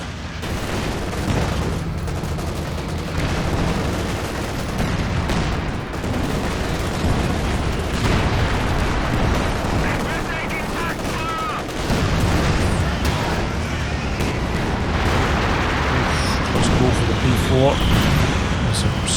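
Company of Heroes 2 battle: booming frag grenade explosions mixed with dense gunfire and machine-gun bursts, loud and continuous, with a voice commentating over the combat.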